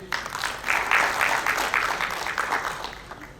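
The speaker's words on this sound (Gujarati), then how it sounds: "તો એના માટે એકવાર ખૂબ ખૂબ તાળી ગયા છે." Audience applause at a municipal cleanliness-campaign cultural festival in Bhavnagar, a sustained wash of clapping from a crowd at an even level for a few seconds.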